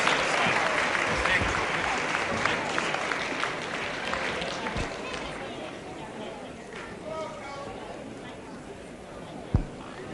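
Audience applause for wrestlers before a heavyweight contest, a steady broadband patter of clapping from a crowd with some chatter mixed in, lasting throughout at moderate level.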